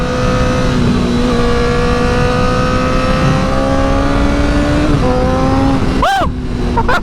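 A Honda CBR1000RR sport motorcycle engine pulls hard and close, its steady high-pitched drone climbing through a gear change before a sharp rising rev near the end.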